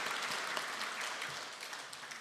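A church congregation claps together during a Sunday worship service, a steady dense patter of many hands that holds at a moderate level for the whole stretch, with no voices over it.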